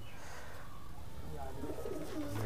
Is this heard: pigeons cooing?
yes